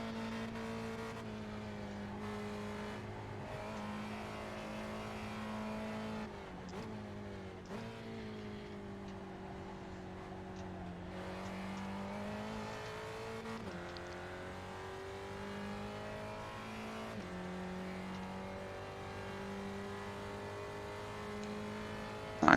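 Spec Racer Ford race cars lapping Oulton Park in the iRacing sim, a steady engine drone with harmonic pitch rising and falling through gear changes, continuous and close throughout with no talk.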